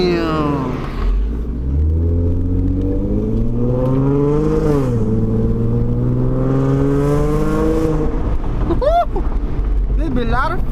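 A catless V6 Ford Mustang accelerates hard with a loud, rising exhaust roar heard from inside the car, pitch climbing through each gear before dropping at shifts, and a voice speaks over it near the end.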